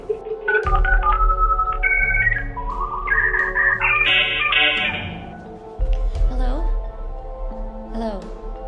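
Phone ringing for an incoming call, a series of melodic electronic ringtone notes stepping up in pitch, loud and close, followed by a short pause and more tones.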